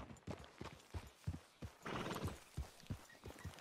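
Horse hooves clip-clopping at a walk in the video game Red Dead Redemption 2, with regular close hoofbeats over soft ground, a brief whinny or snort in the middle, and no talk.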